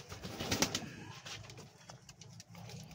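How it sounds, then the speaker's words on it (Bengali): A breeding pair of satinette pigeons coos softly at close range, low throaty calls over faint background noise, with a brief rustle early on. "এই হচ্ছে শার্টিনের ব্রিডিং পেয়ারটা আমার যেটা আছে সেটা"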